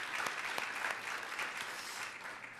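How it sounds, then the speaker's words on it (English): Delegates at the WBAF 2019 ministerial roundtable applaud a government minister: a moderate, fairly distant round of many hands clapping, steady and sustained with no talk over it. "So please, let's give a big applause to Mr."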